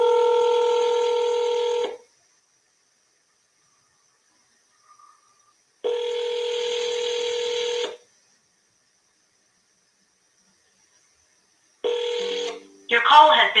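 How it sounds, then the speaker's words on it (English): Telephone dialing tones during a live seller call: two long steady tone bursts about two seconds each separated by silence, then a third shorter burst and a brief run of quick keypad beeps. "we're going to double dial"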